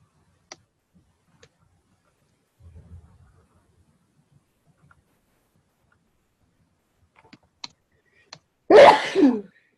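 A single loud, close sneeze bursts out near the end during a quiet meeting-room pause, preceded only by a few faint clicks and soft shuffling.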